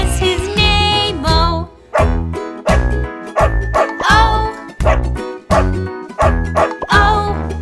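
A dog sound in a children's farmyard song plays as a regular series of short, loud barks over a bouncy musical backing, repeating in rhythm with the beat.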